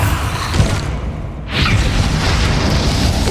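A Bombarda spell blast in Hogwarts Legacy, a loud sustained roaring boom with a brief dip then a renewed burst of crackling noise, dense and close.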